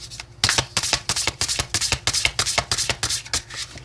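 Oracle cards are riffled and shuffled by hand for a tarot reading, a rapid close series of crisp papery flicks and slaps lasting a few seconds.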